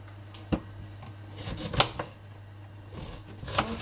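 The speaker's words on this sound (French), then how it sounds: "je coupe en tranches" Knife cutting vegetables into slices while making a carrot tart and salad, a few separate chopping knocks on a board spaced over a few seconds, close and moderately loud over a low steady kitchen hum.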